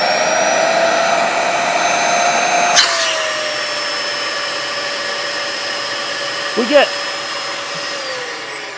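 A Dyson DC14 Animal vacuum cleaner runs without its cyclone attached, giving a loud, steady whine with a high tonal pitch that drops partway through, and a brief clunk near the end. A voice speaks briefly over it.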